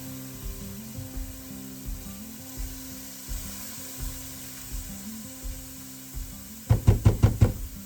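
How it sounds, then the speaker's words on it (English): Sloppy joe ingredients sauteing in a pan give a soft, steady sizzle under low rhythmic thumps, then a quick cluster of four or five sharp knocks near the end. "I'm going to let these saute for just a couple of seconds there"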